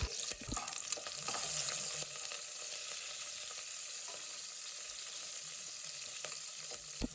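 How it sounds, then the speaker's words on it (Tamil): Shallots and a sprig of curry leaves sauté in hot oil for a goat head curry, giving a steady close sizzle with soft crackles and occasional stirring clinks throughout. "சின்ன வெங்காயம் சேர்த்து கருவேப்பிலை ஒரு கொத்து சேர்த்துட்டு நல்லா"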